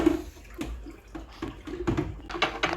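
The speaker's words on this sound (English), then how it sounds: "So she is aerating this wort. It's nice and bubbly." Mr Beer IPA wort is stirred vigorously to aerate it, making sloshing, splashing liquid sounds with rhythmic surges, close up and without speech.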